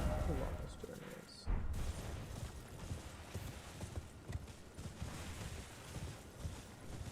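Horse hooves clip-clopping steadily as a rider travels across open ground in the video game Elden Ring, a rhythmic patter of steps running under game noise and occasional impacts.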